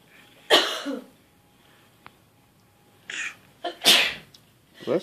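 A sharp indoor sneeze bursts out close and loud, followed a few seconds later by a second pair of quick sneezing or coughing blasts, with quiet room tone between.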